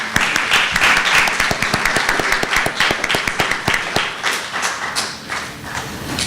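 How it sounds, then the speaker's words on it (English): An audience at an evening event applauds, sharp individual claps clearly separated at first and then thinning out toward the end, the applause loud and close throughout. "Please give her a round of applause."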